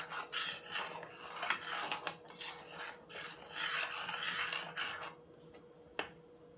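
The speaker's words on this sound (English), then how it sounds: "I'm going to mix." A spoon scrapes and stirs beans and plantain porridge in a pot, rhythmic rasping strokes in quick bursts that fade into a quieter pause near the end, close and clear with no talking.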